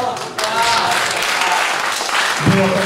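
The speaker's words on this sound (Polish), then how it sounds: "poprosimy o gromkie brawa" Loud applause from guests at a wedding reception, a full, sustained burst of clapping that swells in just after the start, with a voice cutting in briefly near the end.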